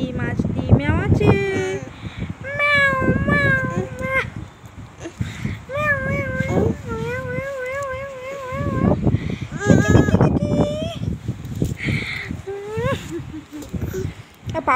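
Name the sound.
cat meowing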